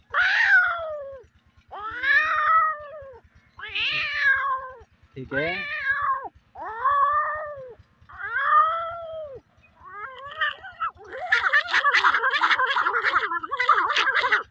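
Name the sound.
man imitating cats fighting and caterwauling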